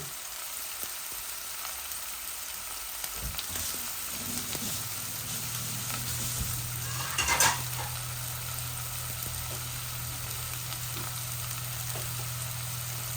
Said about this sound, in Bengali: আমার মাছটা ভাজা ভাজা হইতেছে